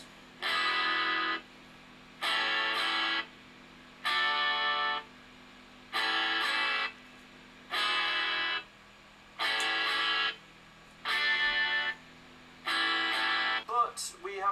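Acoustic guitar riff strummed as full six-string major chords, including an open E, played in a steady pattern of eight sustained strums roughly every second and a half, close and clear with short gaps between each chord.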